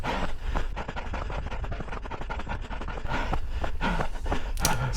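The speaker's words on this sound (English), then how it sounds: "My breathing sounds terrible" Heavy, ragged panting from a runner on a parkrun course at Vicar Water Country Park, close and loud, rhythmic breaths with footfall scuffs and no talking.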